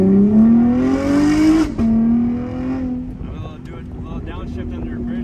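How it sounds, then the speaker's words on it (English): A loud modified Camaro rises in engine pitch, then drops sharply in a downshift under a bridge, followed by a throaty rumble with wind noise. Someone talks over it. "Downshift under a bridge right here."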